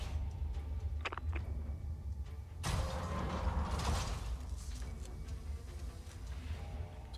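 A big door mechanism grinding open in Avatar: Frontiers of Pandora, a creaking ratchet-like clatter swelling into a loud rumbling heave partway through, with faint clicks before.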